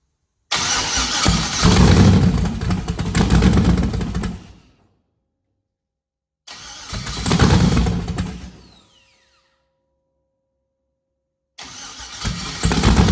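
An LS-swapped Chevy Nova starting for the first time, a loud close engine that catches and runs roughly for a few seconds, dies, restarts briefly, then fires again after a silent gap.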